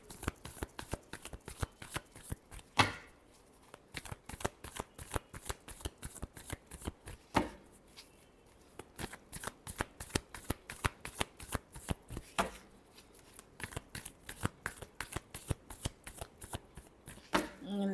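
Tarot cards are shuffled by hand over and over in quick riffling bursts and soft flicks, close and crisp, under no clear talk.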